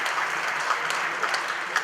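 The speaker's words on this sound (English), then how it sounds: "Let's give them all a big round of applause" A live show audience applauds steadily, a dense even wash of clapping from a crowd with no letup across the short stretch.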